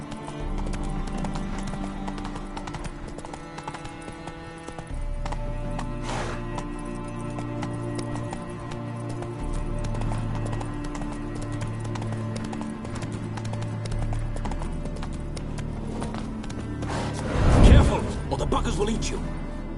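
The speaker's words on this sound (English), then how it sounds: "Whoa there, Roach." A horse's hooves clip-clop steadily on the ground in The Witcher 3 game, a rhythmic trotting beat under game music and character voices, with a brief louder snort or whinny near the end.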